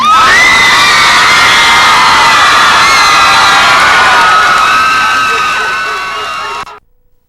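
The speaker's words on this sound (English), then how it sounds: "would you join me in giving a rousing cheer for the class of 1990?" A loud crowd cheering and shouting for the graduating class of 1990 at a high school ceremony, dense and sustained, fading out near the end.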